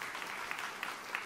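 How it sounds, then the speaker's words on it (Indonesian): A church congregation applauds steadily throughout, a dense even patter of clapping with no pauses. "Tepuk tangan yang meriah untuk kemuliaan nama Tuhan."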